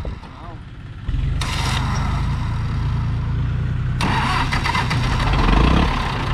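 A sugarcane grab loader tractor's diesel engine cranks and catches, then settles into a loud, steady idle close by with a second surge partway through, while someone talks over it.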